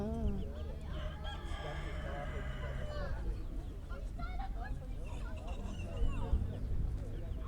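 A rooster crows nearby among clucking fowl, with people talking in the background of a busy poultry market in Isparta, Turkey.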